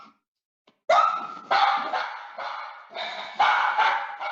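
A dog barks in a series of sharp, fairly close barks, several in quick succession with short pauses between, standing alone without talk.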